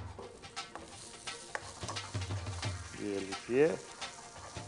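Chopped onions hit hot oil with garlic and sizzle steadily at a low level while being stirred for a potato dish, with someone speaking briefly over the frying.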